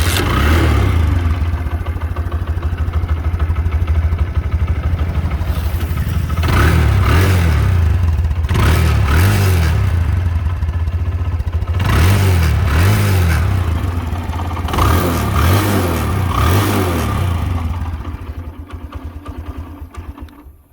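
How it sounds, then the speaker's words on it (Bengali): A used LML Freedom motorcycle, its engine in good condition, idles steadily up close and is revved in several short throttle bursts before settling back to a low putter and fading at the end, with no talking. "এবার আপনাদেরকে গাড়ির ইঞ্জিনের সাউন্ডটা একটু শোনাই দিই"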